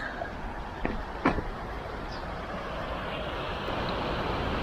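A creek flows beside a quiet rest spot near a castle in Japan: a steady, even rush of water fills the whole stretch, with a couple of faint brief knocks near the start.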